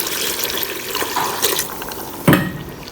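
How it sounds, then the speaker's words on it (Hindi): A glass of water is poured into a pot of tinday gosht (apple gourd and meat curry) cooking on the stove, a steady splashing gush that ends in a brief louder slosh, with no talking. "अब मैं इसमें 1 गिलास पानी शामिल करती हूँ।"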